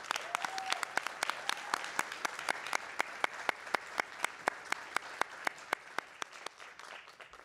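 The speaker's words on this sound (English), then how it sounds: "Give yourselves a round of applause." Applause at a college cosmetology hair competition show: evenly spaced, crisp claps in a steady rhythm, sounding like a modest group clapping together, fairly close and distinct over a quiet room.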